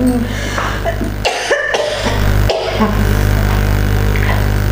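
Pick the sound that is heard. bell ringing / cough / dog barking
cough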